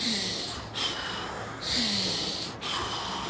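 A surfer doing breath work with a coach takes sharp, forceful nasal inhales and exhales close by, three strong bursts separated by brief pauses, in a steady rhythm.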